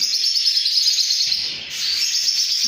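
Opaline budgerigars in nest boxes give a dense, continuous stream of close, high chirping and chattering, with a brief dip in the middle and no voices.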